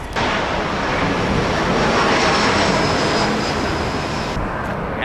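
Airplane passing low overhead near an airport, a loud, steady broadband engine roar that holds for several seconds before dropping away abruptly.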